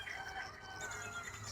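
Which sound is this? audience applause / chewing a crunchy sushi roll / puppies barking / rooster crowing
rooster crowing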